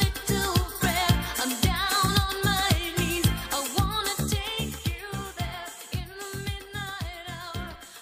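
A song played forwards, a fairly quiet recording with a driving, pulsing beat under layered melodic vocals and instruments.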